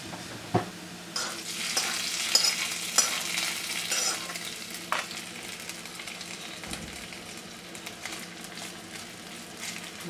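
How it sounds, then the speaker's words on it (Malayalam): Curry leaves, onions and chilies sizzle in hot oil for a Kerala varutharacha chicken curry, a steady frying hiss broken by sharp spoon scrapes and stirring clatters in a pan. "ഇതിലേക്ക് കറിവേപ്പിലയും ഉള്ളിയും മുളകും ഇട്ട് നമുക്ക് മൂപ്പിക്കാം"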